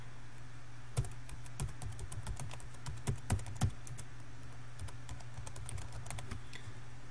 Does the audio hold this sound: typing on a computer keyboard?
yes